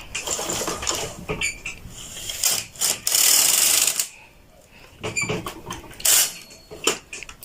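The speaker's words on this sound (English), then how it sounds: "Okay, so we need 2 rows of our lace carriage." A knitting machine's lace carriage is pushed across the needle bed, making clattering mechanical passes with ratcheting clicks and a loud sustained whir, pausing between rows, close by.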